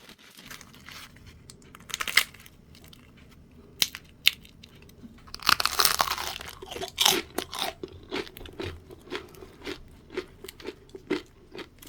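Crisp panuozzo bread, baked again with basil pesto and cheese, being bitten and chewed up close; loud crunchy bites with crackling tears, a dense burst midway, then steady chewing crunches with no talking.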